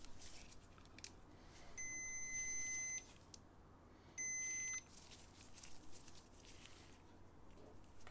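Meter continuity beeps while probing a generator connector pin on a failed Honda EU70is: two steady high electronic tones, each about a second long, separated by a pause, over faint background hiss.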